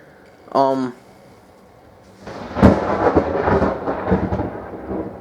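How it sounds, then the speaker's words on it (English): A brief voice is followed by a sharp crack of thunder that rolls and rumbles for several seconds, loud and near. "it's raining at my house too, and that was a loud bit of lightning. Thunder."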